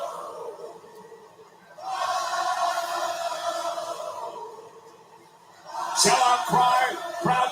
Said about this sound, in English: Sellout crowd trying to rally.